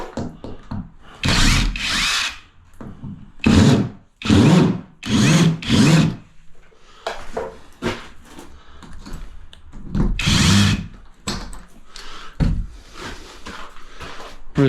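A power tool whizzes screws out around a light switch fixed into wall studs, sounding as several loud, close drilling bursts of one to two seconds each, separated by short pauses, with no talk over them.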